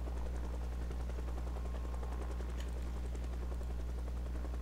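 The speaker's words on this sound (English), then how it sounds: "So we're getting our helicopter again." Steady, continuous rotor drone and low engine rumble of a helicopter in a zombie survival video game, holding at an even loud level throughout with no talk.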